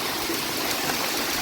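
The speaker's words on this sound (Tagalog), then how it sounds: "umuulan." Steady, dense hiss of rain falling outdoors on a coconut farm, close and even with no pauses or voices.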